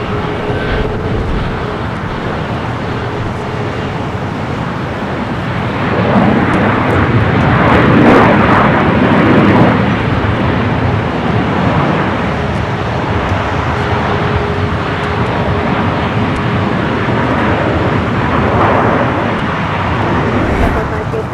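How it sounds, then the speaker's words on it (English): A Southwest Airlines Boeing 737 MAX 8 from Austin, Texas, lands on the south side at Los Angeles airport, a steady broad jet roar that swells midway and holds, with traffic hum and voices in the background. "Southwest Airlines flight 1960, coming in from Austin, Texas, 737 MAX 8"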